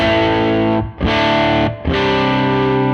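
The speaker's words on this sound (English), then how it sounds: "I now have a bit of an overdriven tone" Overdriven electric guitar through a Tonex pedal, clean tone pushed by raised input trim into thick, saturated chords, held and re-struck twice with brief gaps between.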